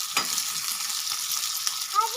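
Tempering spices frying in a pan, a soft continuous sizzle with a few light stirring scrapes, moderately close and without talking.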